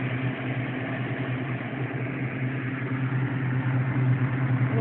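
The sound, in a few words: homemade redneck air conditioner blowing air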